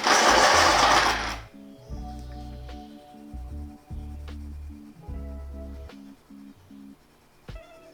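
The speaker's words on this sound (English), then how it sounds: "That one needs to be sharpened." An olive green colored pencil grinds loudly in a sharpener for about a second, a coarse rasping burst that stops abruptly and gives way to a steady tonal pulsing rhythm.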